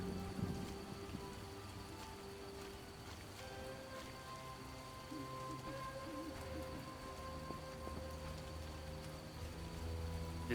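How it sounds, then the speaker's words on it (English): Steady night rain with distant rumbling thunder in The Witcher video game, a constant wash of falling water heard faintly and alone, without any voices. "It was a dark and stormy night."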